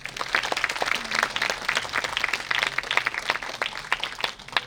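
An audience at a college staging of an English play claps for an actor, producing dense, steady applause from a full hall that lasts throughout, with faint voices mixed in.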